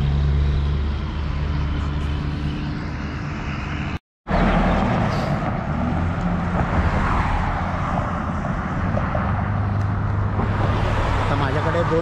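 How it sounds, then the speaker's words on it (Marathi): Morning road traffic at a downtown street signal in Traverse City, Michigan, with cars and heavier vehicles passing steadily close by, a continuous broad roar broken by a brief silence, while a person talks over it. "गाड्यांचा आवाज सकाळच येतो आहे"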